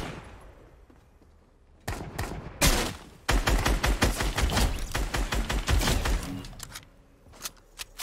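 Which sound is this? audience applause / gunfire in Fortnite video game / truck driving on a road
gunfire in Fortnite video game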